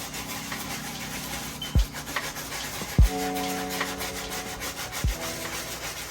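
An ASICS GEL-1130 shoe is scrubbed with a brush and cleaning solution, giving a steady close rasping rub broken by a few sharp knocks, with no talking.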